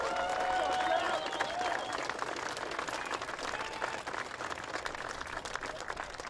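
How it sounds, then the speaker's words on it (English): A crowd claps for Jeff at the outdoor rededication of the Turf Skatepark in Greenfield, steady scattered applause heard from a distance at moderate volume, tapering slightly toward the end. "So please give Jeff a huge round of applause"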